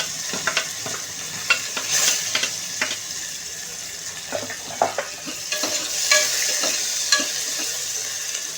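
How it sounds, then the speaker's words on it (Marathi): Green chillies and finely chopped onion sizzle in a pan for moong khichdi, a continuous frying hiss broken by frequent sharp stirring clicks and scrapes, close and alone. "हिरवी मिरची, बारीक चिरलेला कांदा,"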